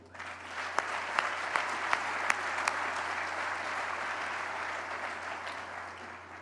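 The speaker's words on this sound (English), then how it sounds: "How about a round of applause for what Las Vegas is able to do?" Audience applause at the A's Las Vegas baseball stadium groundbreaking ceremony, a steady wash of many hands clapping from a large outdoor crowd, with a few sharper claps standing out, fading slightly toward the end.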